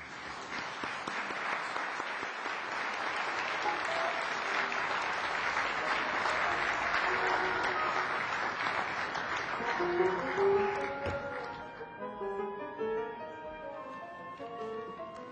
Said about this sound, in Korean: 큰 환영의 박수로 맞아주시길 바랍니다.